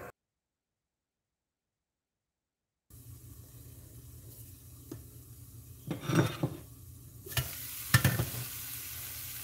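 Broccoli cooking in a pan over a low flame, a steady soft sizzle with occasional stirring clatters and pot knocks, heard alone after a stretch of silence at the start.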